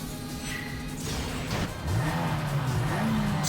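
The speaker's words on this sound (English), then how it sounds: "Secret move! Explosive acceleration!" A car in Yakuza 5 Remastered accelerates, its engine note rising and revving upward in pitch, loud and close, with a surge partway through.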